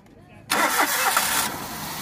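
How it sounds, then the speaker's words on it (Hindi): A Maruti Alto car with a tappet setting problem starts at once after a short crank, then settles into a steady, fairly loud idle, close by. "देखिए फटक से स्टार्ट हो जा रही है अभी गाड़ी"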